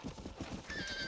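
A horse in the video game Red Dead Redemption gives a short, faint whinny with hoof clip-clops at a corral, heard alone over a soft background bed.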